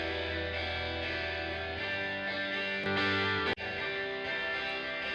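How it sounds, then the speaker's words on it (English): Reverb from an Audio Unit plugin on a soloed track, with sustained tonal music carrying a washed, echoing tail throughout and a brief sharp hit and dropout near the end. "we should be able to hear some reverb."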